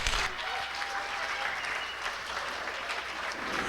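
Wedding guests applauding at a reception, a dense, steady burst of clapping from a roomful of people that fills the whole stretch without letting up.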